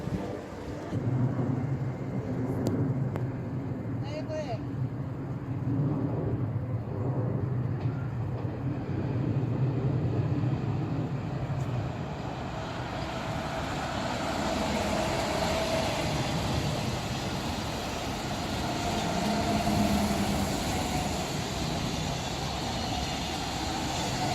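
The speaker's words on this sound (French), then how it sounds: "c'était un RER" An RER commuter train rolls through Arnouville-lès-Gonesse station, a steady broad rumble and rail roar that builds and holds for over twenty seconds at moderate distance, with no voices.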